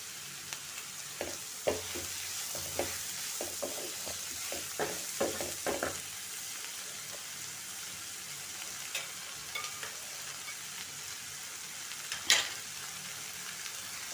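Tawa pulao ingredients are stir-fried on a griddle, with a soft steady sizzle under a run of quick spatula clatters and scrapes early on, then quieter frying and one sharp clink near the end.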